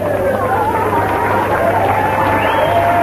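Large crowd murmuring and chattering in a London street during Ron Kray's funeral cortege, a steady dense babble of many voices at a distance with no single sound standing out.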